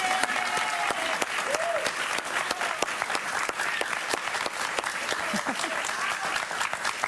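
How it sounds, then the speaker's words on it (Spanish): A TV talk show studio audience applauds as a guest is welcomed, with brisk continuous clapping and a few audible voices underneath. "Un aplauso para ella."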